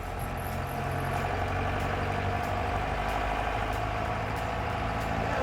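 An old four-cylinder engine in a welder-built fuel truck pulls hard under load, giving a steady, loud, rumbling drone that holds for the whole stretch with no talking over it.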